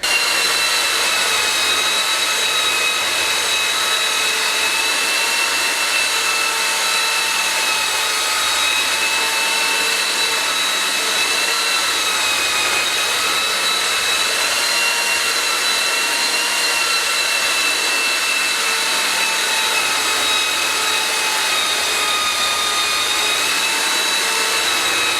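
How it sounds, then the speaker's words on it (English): A steady, continuous whine of a power sander on a solid wood kitchen table, running without pause, loud and close, with constant high-pitched tones and no voices. "Right, so bit of sanding there"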